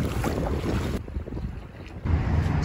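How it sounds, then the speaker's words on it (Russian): Strong wind buffets the microphone in broad, roaring gusts, loud throughout with a brief lull in the middle. "Ветер еще жесткий дует."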